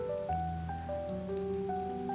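Steady rain falls continuously beneath soft, sustained ambient music tones, even and calm with no voices throughout.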